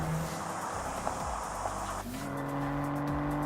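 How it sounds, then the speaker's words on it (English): A Bentley sports car accelerates hard from inside the cabin, its engine note muted and rising in pitch as it shifts, with a steady road hum underneath and no talk. "If you're expecting this Bentley to have a ferocious growl, you're going to have to push pretty hard to hear it."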